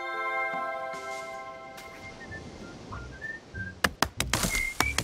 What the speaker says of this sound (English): They're like whistling.